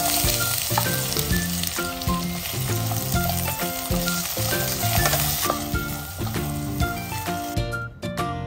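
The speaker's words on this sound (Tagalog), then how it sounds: "Sa mainit na kawali na may mantika, gisahin ang hiniwang patatas hanggang magkulay golden brown ito." Sliced potatoes sauté in hot oil in a pan, a loud, close, continuous sizzle over background music, with occasional stirring scrapes.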